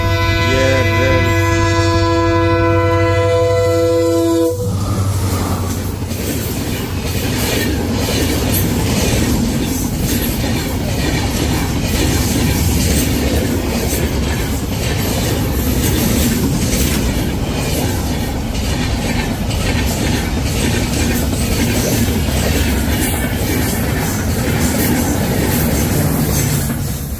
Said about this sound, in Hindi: ट्रेन आ गई मार।